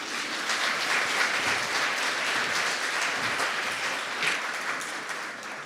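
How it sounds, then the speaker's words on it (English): Applause from the audience at an economics summit, a steady wash of many hands clapping at moderate volume for several seconds, with no speech over it. "Once again, please give him a big round of applause."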